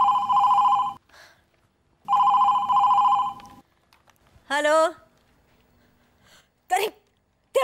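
A telephone bell rings loud and close in two long bursts with a silent gap between them. A few short vocal sounds follow.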